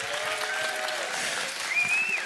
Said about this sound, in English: my identity is not in your claps and your applause